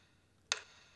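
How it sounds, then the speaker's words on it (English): A small metal harp tuning wrench strikes a tuning peg once, a single sharp bright click with a very short ringing tail, alone in a quiet room. "One sound was the sound of the little tuning wrench"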